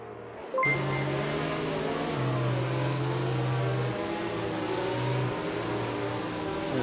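Formula 1 cars in a racing video game accelerate at a safety car restart on the Baku street circuit. Their engine whines are steady and loud, with rising and shifting tones running continuously throughout.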